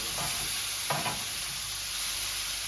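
Bacon lardons and mushrooms sizzle steadily in a frying pan while being stirred, with a couple of distinct scraping stirs early on and a constant close frying hiss throughout, no talking.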